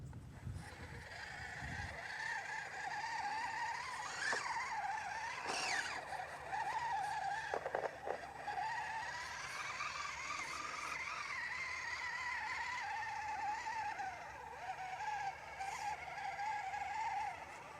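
An Axial SCX24 RC crawler fitted with Proline big bore oil shocks drives along, its small motor giving a steady high-pitched whine that rises and falls with throttle, with occasional scrapes and ticks from the terrain. There is no talk.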